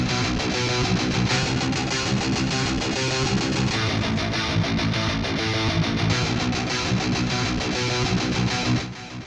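A distorted cinematic guitar riff from the Sample Logic Cinematic Guitars Infinity library plays loud and dense for about nine seconds, thick with effects, then cuts off abruptly at the end.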